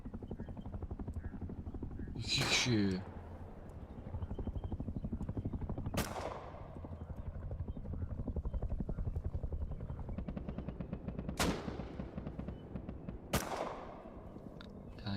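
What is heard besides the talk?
helicopter in the video game Rust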